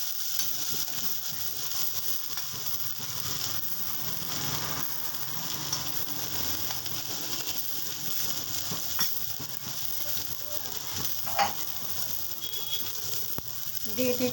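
Eggplant fries in oil with a continuous soft sizzle and occasional crackles and stirring clinks, steady and fairly quiet throughout.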